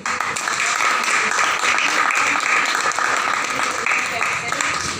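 Steady, dense applause from a large audience at a direct selling presentation, a continuous wash of clapping at even loudness throughout.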